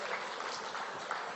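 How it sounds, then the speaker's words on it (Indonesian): Applause from a stand-up comedy audience, a steady wash of clapping at moderate level throughout the short moment with no talking over it. "Tepuk tangan buat ibu saya."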